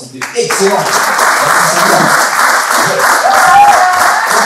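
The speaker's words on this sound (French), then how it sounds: "on peut les applaudir bien fort" A church camp audience applauds loudly and steadily, dense clapping that fills the space while a speaker talks over it.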